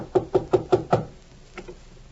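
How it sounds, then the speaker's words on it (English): Knocking on a door as a radio drama sound effect: five evenly spaced, firm raps close by, followed by a fainter pair of knocks after a short pause, with no talking. "I'm knocking at the door."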